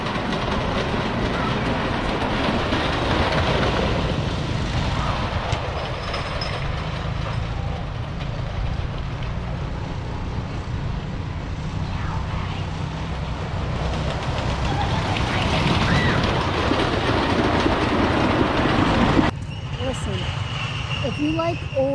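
An old wooden roller coaster runs at Lakemont Park, a continuous loud rumble of cars rolling over track with clattering and rattling, brief talk underneath and a sudden shift near the end.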